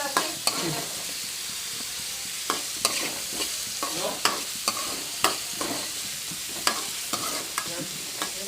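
A tomato curry base frying in oil until browned, a continuous close sizzle broken by regular sharp scrapes and taps of a spoon stirring the pan.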